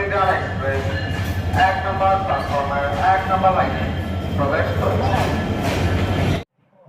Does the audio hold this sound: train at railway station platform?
yes